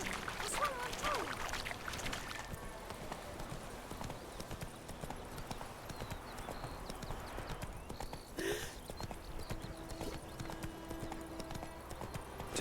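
Roach the horse's hooves clip-clop steadily in The Witcher 3 game, a continuous rhythmic trot at moderate distance under a faint background wash, with brief talk over it.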